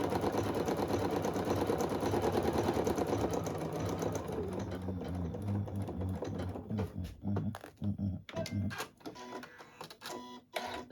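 A sewing machine stitches a table runner with a rapid, even mechanical chatter that slows into separate clacks and finally a few scattered taps, close and fairly quiet.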